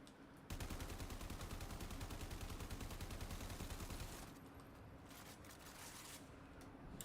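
Rapid automatic gunfire from an AK-47-style rifle in the video game Warframe, a dense sustained burst of shots for about four seconds, followed by quieter game ambience and a few faint later pops.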